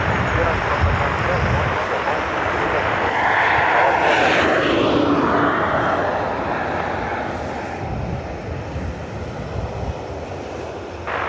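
A Liverpool-bound airliner passes near Dublin Airport, its broad engine roar building and fading over several seconds, steady and fairly loud against outdoor background.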